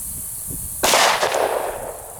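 A single sharp gunshot from a Glock Gen 4 Model 31 firing .357 SIG Underwood 147-grain jacketed hollow points into ballistic gel, a loud close crack with a brief ringing decay over low background hiss.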